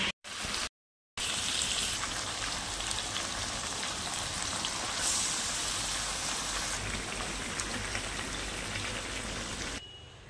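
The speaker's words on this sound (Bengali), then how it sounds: "এবারে এই ম্যারিনেট করা চিকেনটা দিয়ে দেবো।" Marinated chicken hits hot mustard oil with dried chilli, cumin and fried onions, making a loud, dense, even hiss that runs on steadily after a brief dropout near the start and then cuts off.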